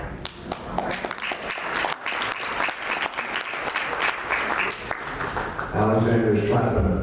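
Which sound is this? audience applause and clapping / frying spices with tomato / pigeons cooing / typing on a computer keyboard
audience applause and clapping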